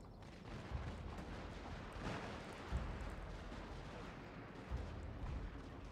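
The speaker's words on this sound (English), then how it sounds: "the Hodjo hand mortars are getting some shots off" Hand mortars firing in a Shogun 2 multiplayer battle: repeated dull booms thudding every second or two over a dense, continuous roar of battle noise, with no voices.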